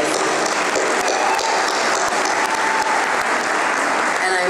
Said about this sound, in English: Yes, that's our round of applause.